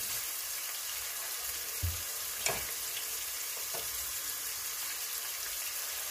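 Onions frying in a pot for a Nigerian-style yam porridge, a steady low sizzle with a few soft scraping knocks as they are stirred, no talking.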